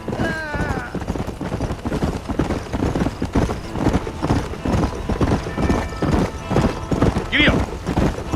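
Horse hooves gallop in a fast, steady clip-clop rhythm in the Western video game Red Dead Redemption, close and continuous, with a brief whinny near the end and muffled game sound beneath.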